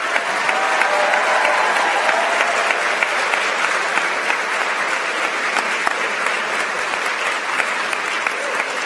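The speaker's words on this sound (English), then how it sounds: "Charles, please rise to receive our applause." Audience at a school awards ceremony applauding a student, a loud, dense and continuous crowd clapping that holds steady for the whole stretch.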